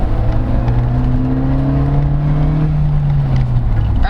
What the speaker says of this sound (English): And here, 40 kilometers per hour, just floor it.